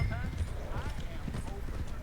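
Horse hooves clip-clop at a steady walking rhythm in the video game Red Dead Redemption 2, close and continuous, while someone talks over them.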